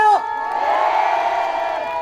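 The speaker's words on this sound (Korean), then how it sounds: "여러분들의 뜨거운 박수와 함성으로 시작해 보도록 하겠습니다" A concert crowd at an outdoor city festival concert in Ulsan cheers and shouts together, one sharp collective yell at the start giving way to sustained, loud, dense whooping and applause-like roar.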